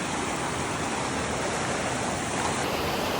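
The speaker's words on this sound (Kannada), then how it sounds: "ಫುಲ್ ನದಿ ಐತಿ. ಇಲ್ಲೂ ನದಿ ಐತಿ, ಇತ್ತಾಗೂ ನದಿ ಐತಿ, ಇಲ್ಲೂ ನದಿ ಐತಿ. ಎಲ್ಲ ಕಡೆ ಹರಿದು ಬರತೈತಿ." Steady, loud rush of river water flowing on all sides around people wading carefully through it on a trip near Goa, a dense continuous roar with no voices.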